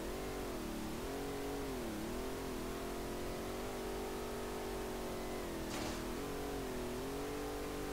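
A car engine in the racing game SLRR revs steadily during high-speed drifting on a wide mountain road, producing a continuous loud drone that rises and falls in pitch.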